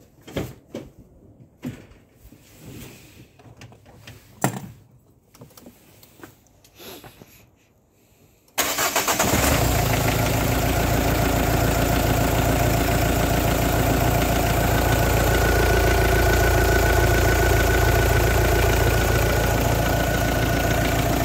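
Renault Clio 2 with a 1.5 dCi K9K 704 diesel engine, repaired after a fuel-line fault, fires up abruptly after quiet shuffling and clicks, then settles into a loud, steady close-up idle.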